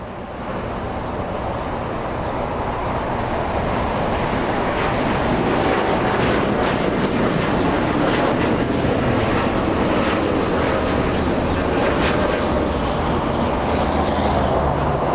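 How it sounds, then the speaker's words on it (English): United Airlines Boeing 787-9 Dreamliner at Los Angeles International Airport, bound for London Heathrow, producing a steady, loud broadband jet roar that swells slightly midway and holds throughout, with some wind buffeting. "A Dreamliner flying to London's Heathrow, United Airlines 923 787-9"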